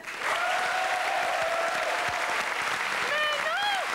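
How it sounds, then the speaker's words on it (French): Studio audience applause during a French television comedy sketch: full, sustained clapping from a crowd, with a voice speaking over it toward the end. "la plus charmante est Valérie que l'on applaudit"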